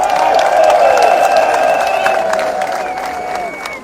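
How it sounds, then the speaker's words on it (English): A crowd of supporters at a political speech claps and cheers loudly, with long drawn-out cheering tones riding over scattered clapping before the noise fades toward the end. "Give yourselves a round of applause."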